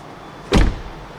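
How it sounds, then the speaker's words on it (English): A BYD Tang EV electric SUV door swings shut with a single solid, close-up thud, followed by a brief low rumbling rattle as the door panel shakes, set against a steady background hum. "So whenever I close this door, the entire door shakes, guys."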